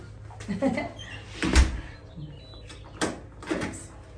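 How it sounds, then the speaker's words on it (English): A blue front door of a house is pulled shut and locked, giving a couple of soft thumps and a latch clack among light shuffling, while birds chirp faintly outside. "Last time walking out of our house, locking the door behind us."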